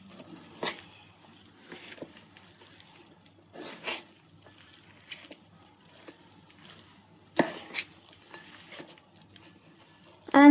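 A sticky date and dry fruit laddu mixture is mixed in a pan off the heat with a few scattered scraping strokes and soft thuds, fairly quiet, with pauses between them.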